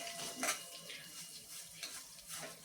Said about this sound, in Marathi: हा रवा तुपामध्ये छान आपल्याला परतून घ्यायचा आहे